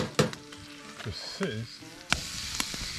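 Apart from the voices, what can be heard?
pancake frying in a new pan on a tent stove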